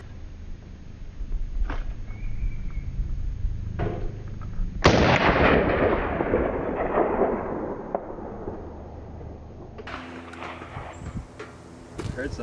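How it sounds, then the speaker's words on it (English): A single .45-70 rifle shot fired during scope testing, a sharp, loud report midway through with a long rolling decay, set against a quiet background and followed by faint sounds. "It's kind of a light sounding 4570."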